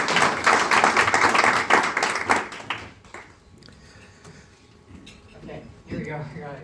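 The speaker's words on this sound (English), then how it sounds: "A very warm round of applause and a warm welcome back to Rotary." An audience at a Rotary youth exchange presentation gives a round of applause. Dense clapping lasts about two and a half seconds, then breaks off into quieter room noise and people talking.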